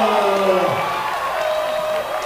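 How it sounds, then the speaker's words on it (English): A basketball arena crowd roars and whoops after a right-hand slam dunk in a men's college game against Montana State Billings, a sustained, loud wash of cheering with a commentator talking over it. "that sends this crowd into a little bit of an uproar"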